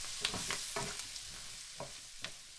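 Parsnips coated in oil sizzle in a pan for a spicy parsnip soup, with a steady quiet hiss broken by several soft stirring scrapes and clicks of a utensil.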